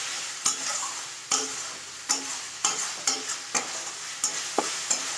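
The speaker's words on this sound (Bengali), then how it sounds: "তো এখন মশলার সঙ্গে কষে গিয়ে নিলাম একটু।" Spice paste with tomato being stirred and fried in a pan for moong dal with bottle gourd, a close, sharp scrape of the spoon repeating about every half second over a faint sizzle.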